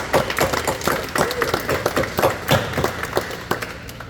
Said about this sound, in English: give a round of applause to our performers for this year